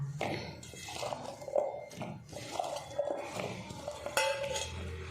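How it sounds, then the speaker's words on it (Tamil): Cauliflower being stirred with masala in a cooking pan: a steady run of clinks, scrapes and soft wet knocks from a spoon against the metal, close and moderately loud. "இப்போ நல்லா கலந்து விட்டுருவோம். பாருங்கள், நல்லா மிக்ஸ் பண்ணிவிட்டோம்."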